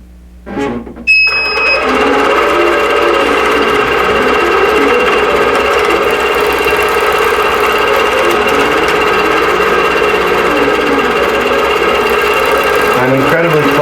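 A quilting machine stitches a spiderweb pantograph, starting up after a brief clunk and then running as a loud, steady, continuous mechanical drone.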